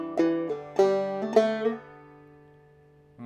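A clawhammer banjo plays a measure of the tune Waterbound: a few bright plucked notes, including a slide on the third string, then a ringing decay that fades toward silence before one last note is struck.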